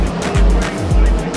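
Race cars roar around a dirt track, their engines loud and close, and two passes sweep by with rising and falling pitch, with no clear talk.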